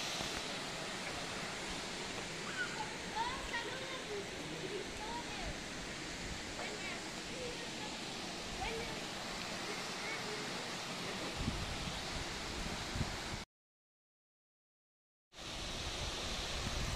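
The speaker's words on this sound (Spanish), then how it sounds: "esta es la cascada que le da vida a este hermoso lugar" Waterfall cascade at Pachuquilla village, running low on water, gives a continuous broadband rush heard from nearby, steady throughout, briefly cut out before resuming.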